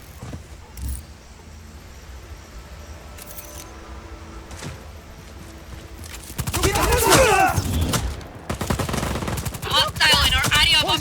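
Rapid bursts of gunfire in Just Cause 4 build from about six seconds into loud, sustained volleys, with quieter scattered sounds and brief voices before them.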